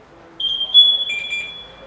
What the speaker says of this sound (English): Gonna beep again here in just a second.